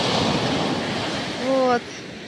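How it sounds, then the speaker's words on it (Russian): Sea waves wash steadily onto a Turkish shore in a broad, even rush of surf with wind noise, briefly joined near the end by a short tonal sound before the wash drops slightly. "Так, волна сейчас отойдет."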